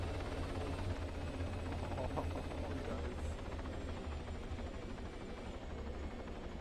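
A helicopter in the military game ARMA 3 gives off a steady, muffled rotor and engine drone. It holds at an even moderate level throughout, with a faint voice in the background.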